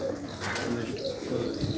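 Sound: pigeons cooing

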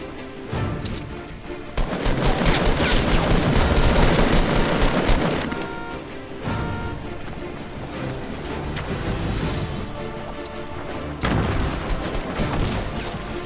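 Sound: shotgun fire in the video game Fortnite

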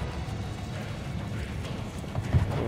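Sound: horse hooves in Assassin's Creed Brotherhood video game

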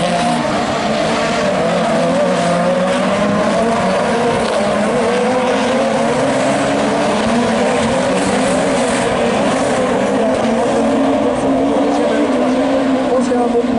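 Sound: rallycross race cars racing, Audi and Renault Twingo

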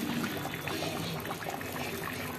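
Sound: water being poured into pot

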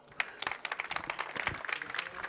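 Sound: audience applause

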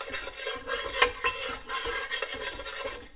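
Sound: stirring a browning roux in a pot

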